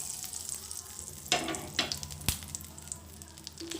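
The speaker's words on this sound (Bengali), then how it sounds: "তেলের মধ্যে দিয়ে দেবো দুটো তেজপাতা দুটো এলাচ আর একটা শুকনো লঙ্কা" Soft, continuous sizzle of bay leaves, cardamom and a dried red chilli frying in oil, with a few sharp clicks and scrapes of a utensil against the pan.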